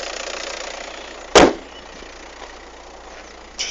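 VW Passat TDI diesel engine idling as it warms up, a steady low hum with one sharp thud near the middle and a softer knock at the end.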